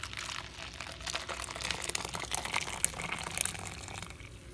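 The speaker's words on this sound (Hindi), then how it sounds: "ये देखिए अभी हम इसको छानेंगे" Boiled Kashmiri pink tea is poured through a strainer, giving a continuous soft liquid trickle and splash, close and fairly quiet, with no talk.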